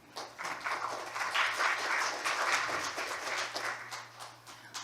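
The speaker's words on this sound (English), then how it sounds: "Please give a big applaud to Mr." An audience at an international criminology and justice forum applauds a discussant: a soft, even wash of many hands clapping, faint and somewhat distant over a low steady hum.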